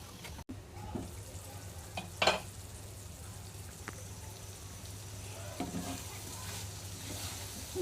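Potatoes sauté in a pan with a continuous sizzle, broken by a few scraping stirs and utensil clinks at close range.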